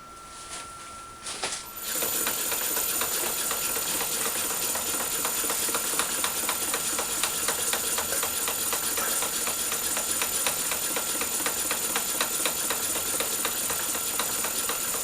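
A tap cutting teeth into a worm gear wheel on a machine gives a steady, loud whirring hiss with a fast rhythmic ticking, running continuously after a quieter start.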